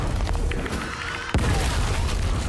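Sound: explosions in the video game Gears Tactics

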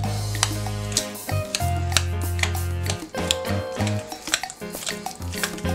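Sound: mashing guacamole with a masher

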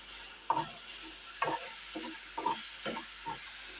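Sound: spice paste being fried and stirred in a pan

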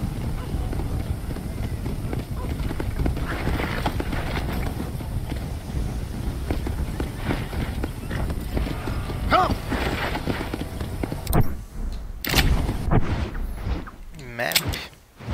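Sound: horse arriving when called, from video game Red Dead Redemption

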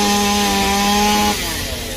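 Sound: saw cutting a tree branch

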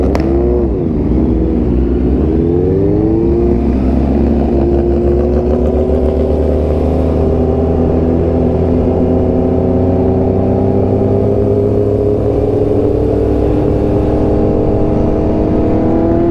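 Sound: superbikes revving at a motorcycle meetup

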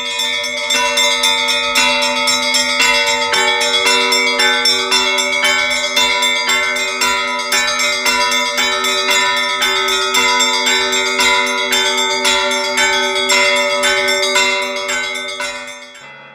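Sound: modern church bells ringing

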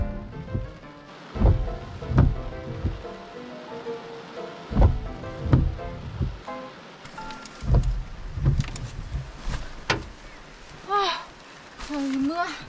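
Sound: rain falling

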